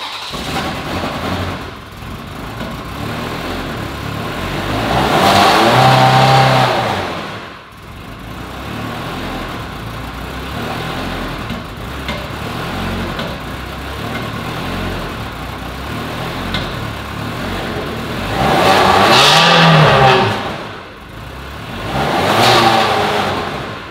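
A damaged Ferrari 360 Spider that has not run for a long time, with a flashing engine-management light and likely misfiring cylinders, idles roughly and rises into loud revs several times over a rumbling engine.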